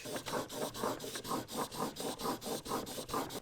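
A chisel bevel rubs back and forth on a 1000 grit sharpening stone with a soft, rhythmic scraping, about a dozen even strokes close up and fairly quiet.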